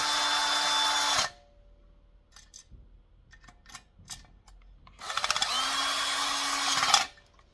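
Electric screwdriver driving screws into a part of a Fissler pressure cooker. Two loud, close whirring runs of about a second each are separated by quiet handling clicks and taps, and no one speaks.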